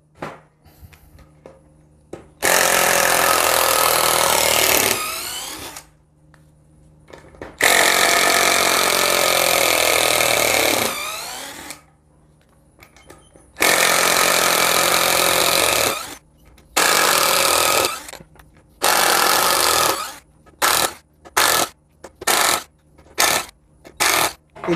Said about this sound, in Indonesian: alat ini impact driver 12 volt ini sangat mumpuni dan nyaman dalam penggunaan